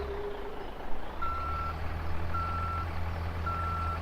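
Truck reversing alarm in Farming Simulator 17, three evenly spaced steady beeps over a low diesel engine drone, clear and moderately close with no talk.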